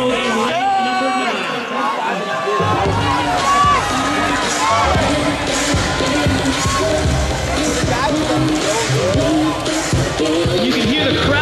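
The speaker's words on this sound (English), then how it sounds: "You can hear the crowd cheering him on" Crowd cheering and shouting for an athlete at the Crush Games 2013 CrossFit pro-division competition, a loud continuous roar of voices close around the action, with an announcer talking over it.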